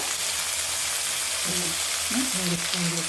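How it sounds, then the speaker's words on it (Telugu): Tomato and potato masala frying in oil for aloo poriyal, a steady soft sizzle running throughout with a few faint clinks and stirring scrapes near the end. "ఇలా వేగేంత వరకు వేయించాలి టమోటాని."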